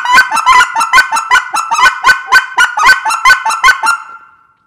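Canada goose honking, a loud, close series of about a dozen evenly spaced nasal honks in steady rhythm, alone with no other sound, fading out at the end.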